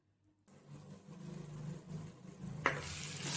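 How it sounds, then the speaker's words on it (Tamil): Onions sauté in a pan toward golden brown for a prawn gravy, a steady close sizzle building after a quiet start, with a stirring clatter and a brighter, louder hiss near the end. "வெங்காயம் நல்லா கோல்டன் ப்ரௌன் ஆகும் அது வரைக்கும் நல்லா வதக்கிங்க"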